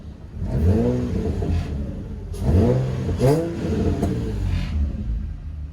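A car engine fitted with test pipes revs hard in three loud, rumbling bursts with harmonic sweeps rising and falling, a slight wheeze and rattle underneath.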